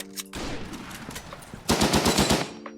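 Rapid automatic gunfire from the online shooter game Frontline Inferno, with a burst of loud close shots after a stretch of quieter, busier game noise.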